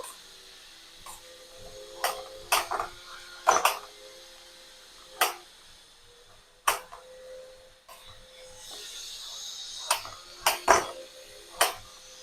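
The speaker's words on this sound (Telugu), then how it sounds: "కొన్నేమో ముక్కలు సన్నగా తరుక్కున్నాము కొన్నేమో కొంచెం పెద్దగా తరుక్కుందాం" Dosakaya cucumber being chopped into pieces, a dozen or so sharp knife taps on a board at an irregular pace, close and crisp, with a faint background hum and no speech.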